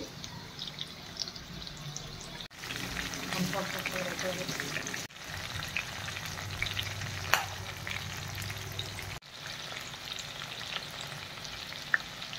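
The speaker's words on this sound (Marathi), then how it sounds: "आता आपण एक एक भाजी त्याच्यामध्ये टाकून तळायला घ्यायची, मीडियम गॅसवरच ठेवायचं आहे।" Vegetables for Schezwan crispy veg deep-fry in hot oil over medium gas, a steady close bubbling sizzle broken by brief pauses and occasional clinks, with a person talking faintly underneath.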